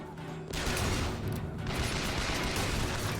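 Gunfire in the video game Bioshock Infinite, a dense, loud fusillade of overlapping shots with booming low rumble running nearly continuously, no talk over it.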